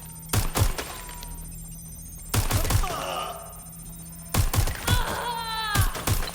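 Gunfire in Watch Dogs Legion arrives in three separate loud bursts of sharp shots, with quieter game sounds and tonal effects filling the gaps between them.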